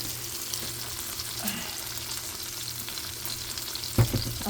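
Scrambled egg with tomato and green chili fries in a pan, giving a constant close sizzle and crackle with one brief clatter near the end.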